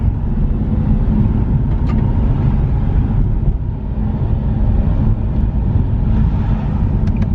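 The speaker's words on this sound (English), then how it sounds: "So right now, just testing around the block, making sure the car stops like how it should." Nissan 370Z on a brake test drive around the block, with a steady low engine and road rumble from inside the car and no talk.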